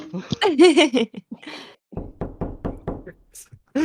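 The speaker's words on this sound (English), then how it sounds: "you guys hear a knock on your door" Knocking on a door made with the voice, a quick run of about seven evenly spaced thuds following a burst of speech, loud and close, with a short noise at the end.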